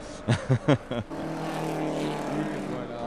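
A historic race car at the Le Mans Classic, Plateau 3, crosses the finish line: after a brief burst of voices, a broad engine roar rises and holds steady, close and loud.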